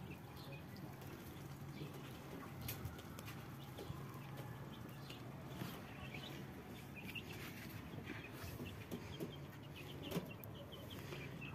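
Free-range chickens on a rooftop cluck softly and intermittently, with faint bird chirps and light background noise; the sounds are quiet and somewhat distant.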